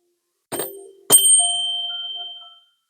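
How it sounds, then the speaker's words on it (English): A hand bell struck twice, the second strike ringing out clear and bright with a long fading tail of overtones, heard close and alone. "Ring my bell."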